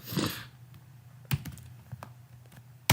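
Rapid typing on a computer keyboard while writing Django web code, crisp clustered key clicks in an irregular rhythm with a louder burst at the start, heard close and alone.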